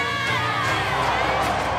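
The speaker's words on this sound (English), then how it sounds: "A roaring band, an even louder crowd." A UMass college football crowd roars and cheers in the stands, a broad, steady din with a band's tones blended in, loud and continuous through the moment.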